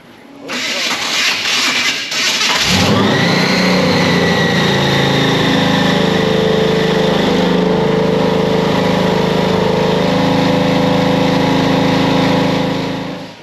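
A supercharged Chevrolet C10 pickup engine cranks over with a rough, uneven starter churn, then catches and settles into a loud, steady idle close by.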